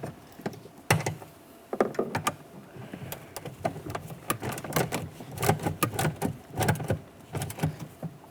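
6mm bolts are snugged up on a rear exterior door handle of a 2007-2017 Jeep Patriot, heard as irregular quick ratchet clicks and metallic taps in short close bursts.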